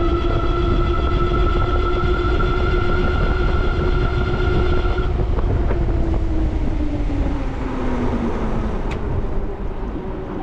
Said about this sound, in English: The front motor has a lot of noise to it.